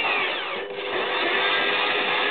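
Power drill running in reverse while grinding a 650 motorcycle cylinder head, a loud continuous whirring whine with a brief dip near the start before it steadies again.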